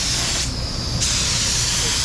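A DeVilbiss FLG4 spray gun sprays thinned paint, a loud close continuous hiss of air and atomized paint with a brief change in tone partway through.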